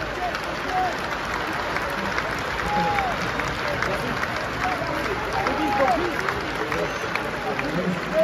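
Post-match rugby gathering audience applauds a team fitness staff member, steady broadband clapping lasting several seconds with some faint voices mixed in.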